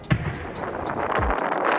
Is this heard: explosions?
yes